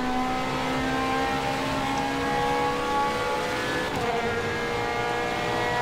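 Ferrari 458 Italia Risi Competizione engine in Forza Motorsport 5, a sustained high-pitched whine holding near steady revs, with a brief dip in pitch as a shift or lift comes partway through.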